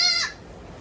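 A single short goat bleat rings out in a cold barn, a brief near cry that fades within a fraction of a second.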